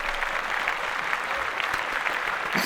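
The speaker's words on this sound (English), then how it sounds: "I had to join in on the applause" A crowd applauding in a steady dense wash of clapping that holds evenly for a few seconds, fairly close and loud, with no voices standing out.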